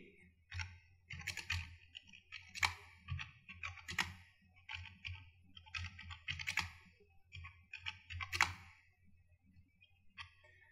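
Irregular bursts of close computer keyboard keystrokes clatter in short runs with pauses between them, the typing fairly quiet and crisp.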